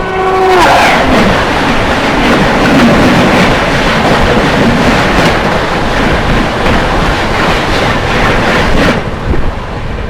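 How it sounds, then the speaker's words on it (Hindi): New Delhi–Gaya Mahabodhi Express rushes past on a triple-line section, a loud continuous rumble and roar with rhythmic wheel clatter over rail joints, and a brief horn-like tone at the start. "सामने से आ रही है न्यू दिल्ली गया महाबोधि एक्सप्रेस"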